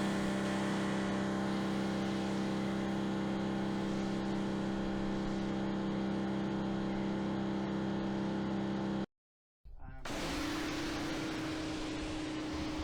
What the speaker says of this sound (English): I really do enjoy using this pressure washer